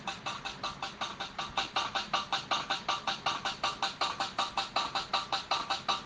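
A tight one-beat loop in Virtual DJ software repeats rapidly and evenly, a short bright stutter of a dance track cycling over and over at moderate volume.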